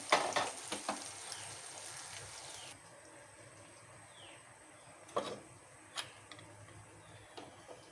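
Fried prawns for a Kerala garlic prawn curry drop into a pan, giving a soft crackle and a few clicking stirs that fade to a quiet, low sizzle with occasional sharp taps.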